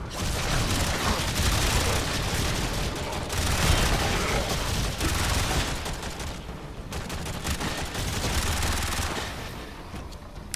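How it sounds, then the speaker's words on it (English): Sustained gunfire during a strafing run in the Warframe video game, dense rapid bursts with booms running steadily for about ten seconds, loud and without talk. "strafing run."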